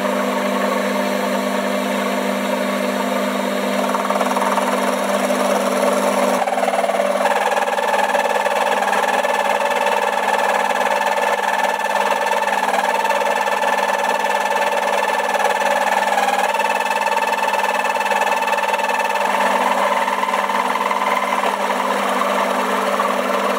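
A metal lathe turns an offset ring held in its chuck, giving a loud, continuous mechanical hum with a steady vibrating drone and slight shifts in tone throughout, with no voices.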